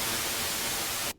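Steady broadband white-noise hiss from a Korg MS-20 Mini noise generator, loud and constant, cutting off abruptly just before the end.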